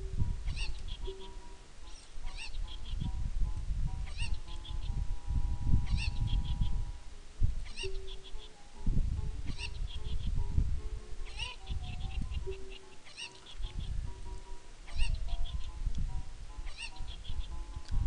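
Cuccos in a Zelda: Ocarina of Time mini game cluck and squawk in repeated bright honking calls, several birds overlapping over a low shuffling backdrop, steady and fairly close.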